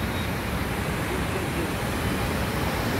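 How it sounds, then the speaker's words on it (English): Floodwater rushing out of an overflowing lake during heavy rain, a dense, constant roar of turbulent water, loud and unbroken with no voices. "Look at the water flowing,"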